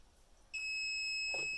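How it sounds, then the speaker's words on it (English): A steady electronic beeping tone from a heat press timer starts abruptly and holds, high-pitched and continuous, with faint background hiss before it. "Okay, so we're about to beep."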